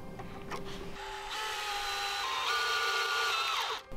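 A power drill drives a screw through a wooden batten into an outdoor cinema screen frame, a steady close whirring drone that climbs in pitch as the screw bites, then stops abruptly.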